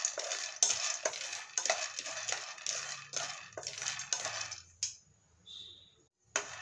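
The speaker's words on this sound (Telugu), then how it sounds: "పల్లీలని కొద్దిగా బాగా వేయించుకోవాలి." Peanuts dry roasting in a pan for stuffed brinjal curry, stirred with a spoon in repeated scraping, rattling strokes for about five seconds, then a pause and a final clink; no talk.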